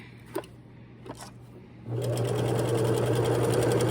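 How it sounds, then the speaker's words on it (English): Domestic sewing machine running a long gather stitch around the fabric, starting after a couple of faint clicks and then humming steadily and loudly for the rest of the clip. "And now we're sewing all the way around."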